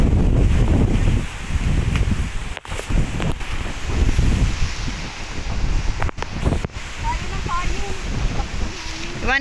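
Strong wind buffets the microphone outdoors during a storm near an evacuation center, with loud gusty rumbling and rustling that rises and falls, while people talk and call out over it.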